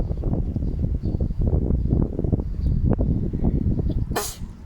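A single sharp sneeze bursts out near the end, close and loud, following a stretch of rumbling background noise.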